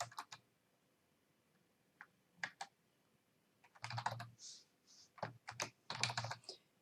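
Code typed on a computer keyboard, close, sparse key clicks in short irregular bursts with quiet gaps, busier toward the end, no talking.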